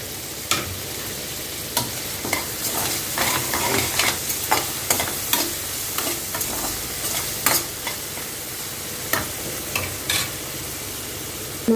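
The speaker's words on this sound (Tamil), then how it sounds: "வெங்காயம் நல்லா வதங்கி வந்தோம்னா நம்ம தக்காளியை சேர்த்துக்கலாம்." Oil sizzles steadily in a pan of sautéing onion and tomato while a utensil scrapes and stirs in repeated sharp strokes, close and fairly loud, with no voices.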